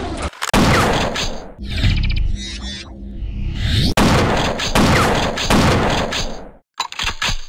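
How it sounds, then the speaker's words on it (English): A 12 gauge shotgun fires in a first-person shooter video game, with loud close blasts and booming reports, mechanical clacks and reload sounds between shots, and no talk. "12 gauge is a nice shotgun let down only by its subpar aesthetics."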